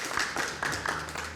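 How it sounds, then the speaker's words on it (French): Audience clapping for an absent candidate at a young TV presenter contest, a few sparse, distinct claps in a loose rhythm, fairly close, with faint room tone underneath. "Mais on peut applaudir pour elle."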